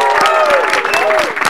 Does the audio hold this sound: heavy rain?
no